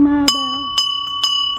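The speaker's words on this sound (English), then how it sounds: "What a cool doorbell." A newly installed doorbell is rung, three clear, bright bell strikes about half a second apart, each ringing on with long sustained tones, close and loud, following the end of a sung voice.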